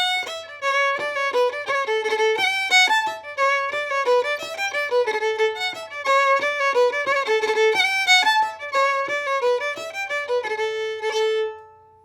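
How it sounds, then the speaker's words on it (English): A Cape Breton fiddle tune plays solo on the fiddle, with quick runs of clear bowed notes in a lively, steady rhythm, close and unaccompanied. "On the fiddle, that same tune would sound like this."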